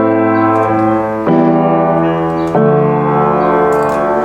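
Sustained piano chords from a song, three chords struck in turn about every 1.3 seconds, each ringing on with rich harmonics, played alone and fairly loud.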